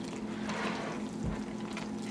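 Water poured into a bowl of self-rising flour and sugar for frybread dough, a continuous close trickling pour with a brief heavier splash midway.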